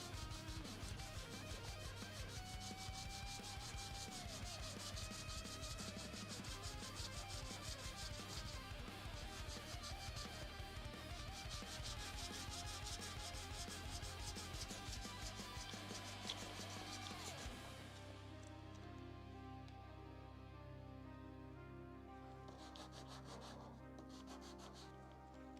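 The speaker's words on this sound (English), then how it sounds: "I know I'm sanding this." A miniature Age of Sigmar Kritza the Rat Prince model is sanded with quiet, repeated rubbing strokes, faint and close, set under louder background music.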